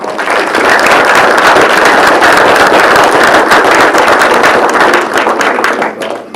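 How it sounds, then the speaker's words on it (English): Sustained applause from an audience at a school board meeting honoring seniors, dense clapping filling the room steadily for several seconds before thinning out at the end. "So let's give them a round of applause"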